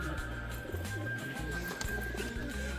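Pigeons coo at a rooftop pigeon loft in soft, repeated low throaty calls, close by, over a steady background hum.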